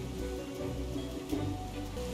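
Steady rain falling in the village of Lei family in a wuxia role-playing game, an even hiss of drops on surfaces with no talk, continuous and moderately close.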